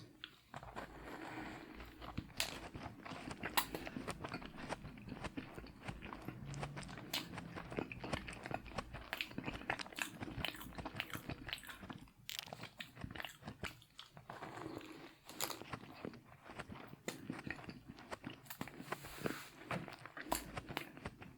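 Soft, close bites and chewing of a chocolate-frosted cake donut, repeated crunchy, sticky mouth sounds in an irregular rhythm with small pauses, quiet and intimate with no talking.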